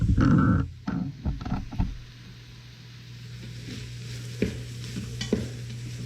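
Ground beef sizzling and being stirred in a soup pot, with loud scraping and clattering stirs at first, then settling into a steady frying hiss with a low hum and a couple of later knocks.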